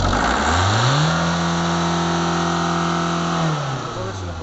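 A truck engine climbs from idle to a held higher rev, a strong steady drone for a few seconds, then drops back toward idle at the end; loud and close, no talking.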